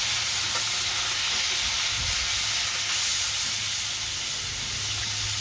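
Shing fish (stinging catfish) hiss and sizzle steadily in a hot pan, a loud continuous frying hiss with faint stirring clatter, no voices.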